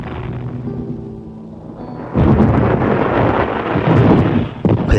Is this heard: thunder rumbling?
yes